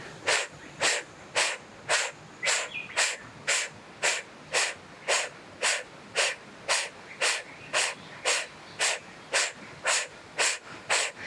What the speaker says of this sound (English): Let's take a couple of breaths.